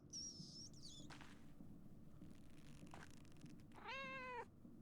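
A cat meowing in the video game Pentiment, a short high mew at the start and a longer, rising and falling meow near the end, faint against quiet game ambience.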